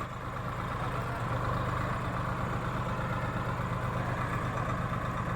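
Swaraj 855 and Novo 755 tractor engines run together at 1000 RPM, a loud, steady, close diesel drone with an even rumbling throb and no talk.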